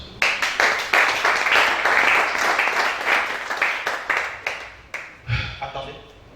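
Congregation at a prophetic church service bursting into loud applause, dense crowd clapping sustained for several seconds before fading into scattered claps and a voice.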